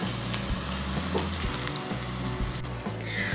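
Hot oil with garlic poured over ground chili sizzles and crackles steadily up close, a continuous fizzing fry with no talking.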